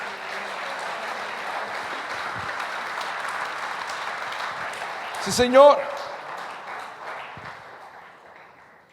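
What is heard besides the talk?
church congregation applauding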